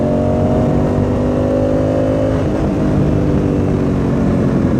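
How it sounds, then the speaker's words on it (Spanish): Loud, continuous engine drone of a Honda Africa Twin 1000 motorcycle revving, close and steady, with its pitch shifting slightly partway through. "el sonido de Honda, para mí es una sinfonía, suena excelente esta motocicleta"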